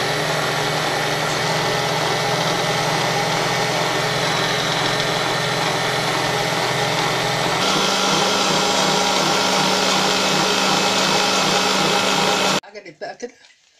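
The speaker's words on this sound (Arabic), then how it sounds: "نشغل عليها ايه العجان كده شويه" A kitchen mixer kneads falafel mixture with a loud, steady motor drone. Its tone shifts partway through, then the motor cuts off abruptly near the end, leaving brief faint handling sounds.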